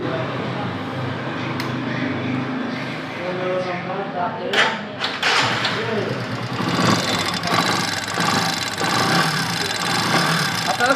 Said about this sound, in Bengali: এই বাইকটা আমি প্রথমে স্টার্ট করতেছি এবং ইঞ্জিনের সাউন্ডটা আমি আপনাদের শোনাচ্ছি